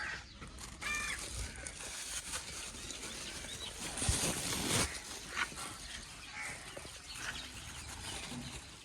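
Crows caw now and then near chickens at a low-investment poultry farm, several short harsh calls at mid-distance over faint outdoor noise and scattered soft bumps.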